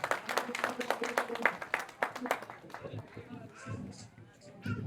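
An audience claps at an Ambedkar Jayanti stage event, a dense burst of applause over the first couple of seconds that thins into scattered claps, with a voice speaking over it.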